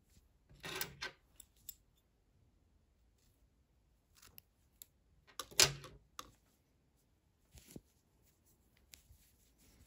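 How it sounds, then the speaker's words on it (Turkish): Scissors cut crochet yarn while a baby girl's ruffled sweater is being finished, giving a few sparse, crisp snips and small handling clicks against a quiet background. "İpliği kesiyorum."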